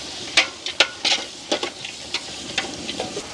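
Onions and green chillies frying in a pan, with a run of short sizzling crackles and stirring scrapes spaced about every half second, close and moderately loud with no talk.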